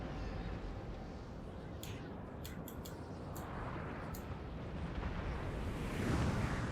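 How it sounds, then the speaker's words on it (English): Artillery guns fire in a Napoleonic-era battle in Napoleon: Total War under a constant rumble of battlefield noise, with several dull distant booms and a few sharp cracks spread across the clip. "my guns are still shooting at the light infantry"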